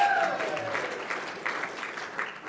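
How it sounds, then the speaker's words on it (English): An audience at a sports law awards ceremony claps in a moderate, steady burst of applause that fades slightly and then picks up again, heard fairly close with faint background voices. "Clapping first."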